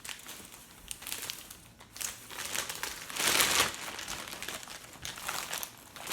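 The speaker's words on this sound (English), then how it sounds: "They come individually wrapped in plastic." Plastic wrapping crinkles and rustles as a new pair of leather boots is unwrapped, close and continuous with louder crackling surges midway, and no voices over it.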